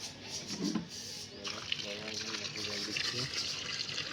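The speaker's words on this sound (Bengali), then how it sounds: "বাবা এখন এই গাছটাতে জল দিচ্ছে" Water poured from a container onto a potted plant with dry, withered leaves, a steady trickling splash heard under a child's and adults' nearby talk throughout.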